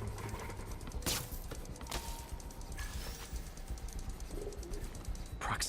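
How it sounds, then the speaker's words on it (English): A pigeon in Marvel's Spider-Man coos softly amid game ambience, with a couple of sharp mechanical bursts and clicks cutting in. "This pigeon's strong."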